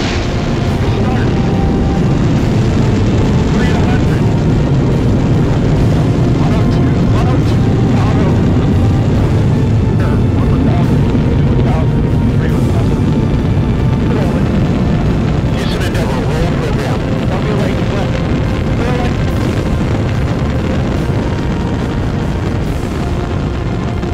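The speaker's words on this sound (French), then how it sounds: "le 11 mars 2008, Endeavour est prête au décollage pour un lancement de nuit" Space Shuttle Endeavour lifting off at night, a dense, continuous low rumbling roar with crackling bursts that holds steady and loud throughout, like a massive rocket launch heard from a distance with broad booming energy.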